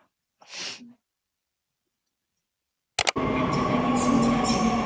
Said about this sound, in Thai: รถไฟมาแล้ว